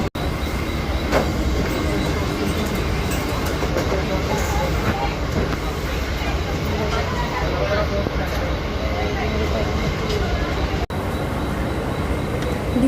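A Mumbai slow local train rumbles steadily at Wadala Road station amid a crowded platform, its wheels and carriages giving a continuous loud din while people talk nearby.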